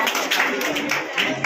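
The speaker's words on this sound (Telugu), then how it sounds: "గట్టిగా చప్పట్లు." Audience clapping at an awards event in Ravindra Bharathi hall: a dense burst of hand claps rising and falling in loose waves, fairly close, with voices mixed in.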